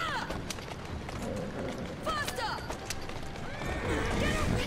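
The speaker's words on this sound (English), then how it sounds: "I wonder if I can get driving the wrong way in a horse and cart" Horse-drawn cart hooves clip-clop steadily along a street in Assassin's Creed Syndicate, with game ambience, occasional whinnies and a voice talking over the top.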